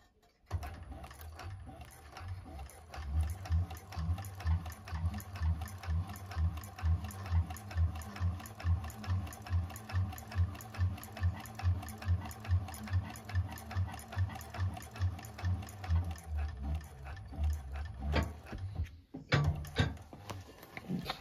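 A 1341 cylinder arm sewing machine stitches a bag seam, running in a steady, rapid mechanical rhythm for most of the clip before stopping near the end, close and clear with no talking.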